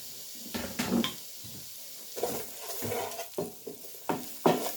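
Half a diced white onion is added to a hot pan and stirred, giving soft sizzling with repeated scraping and clattering strokes close by over a few seconds, with no talking.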